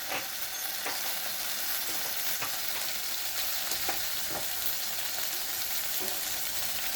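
Gobi bhaji (cauliflower) frying in a pan with spices such as turmeric and homemade garam masala, with a steady, close sizzle and scraping stirring strokes throughout.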